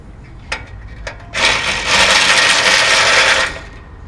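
Scraping, ratcheting hand-tool work on a screw at the bottom of a Rolls-Royce Silver Shadow front grille: two short clicks, then a loud sustained grinding rasp for about two seconds, close by with no talk.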